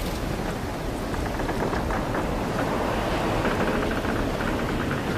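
A strong wind roars alongside crashing sea waves in a Spanish-language film scene of Peter stepping from a boat onto the water. The noise is a dense, continuous rushing wash at steady loudness, with no voices.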